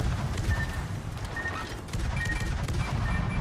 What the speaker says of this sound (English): Have some fireworks, yatch.